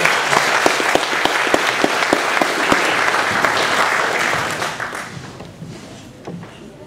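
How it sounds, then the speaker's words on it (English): Loud, close applause from a hall audience at a gospel hymn charity evening for Ulster Scots performers, with sharp individual claps standing out before the clapping tapers off and fades near the end. "Give them all a big round of applause"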